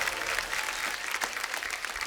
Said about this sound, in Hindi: जोरदार तालियां शिल्पा शेट्टी, बादशाह और मनोज मुंतशिर के लिए